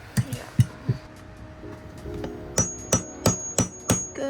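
Hammer taps on a part during a sailboat repair: a few spaced knocks, then a steadier series of sharp, bright metallic strikes in a quick even rhythm, close and clear with no talk.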